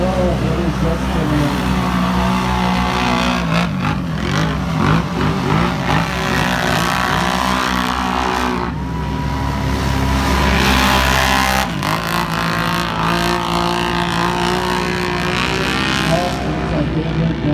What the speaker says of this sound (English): We've got David Lawrence and Bill Ford fighting it out for first and second here.